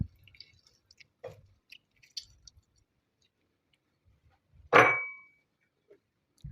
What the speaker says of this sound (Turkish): Yarım limonumu sıkıyorum.